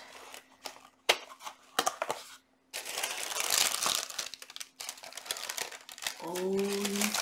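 A cut-open cardboard box of cards being pulled apart and opened, with loud crinkling, crushing and tearing of cardboard and paper in irregular bursts, a brief pause midway, and a faint voice near the end.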